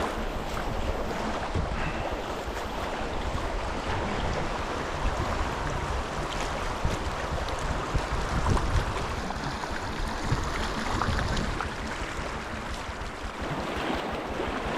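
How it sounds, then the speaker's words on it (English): Constant rushing water and wind buffeting close by from a canoe running long river rapids with big waves in the Yukon, a continuous roar of churning current with no talking. "Another long rapid. Looks like some pretty big waves in this one."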